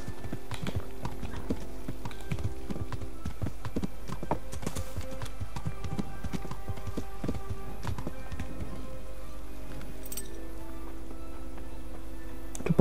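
Horse hooves clip-clop steadily in Kingdom Come: Deliverance, a medieval role-playing game, a rapid, even patter of footfalls running throughout over low game ambience, with no talk.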